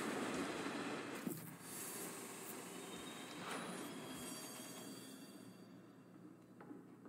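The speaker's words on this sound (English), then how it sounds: "Good to know the train stops for me." A train in the video game DARQ rumbles and rolls to a halt, its steady clattering wheel noise broken by faint metallic squeals and clunks as it slows, with no voices over it.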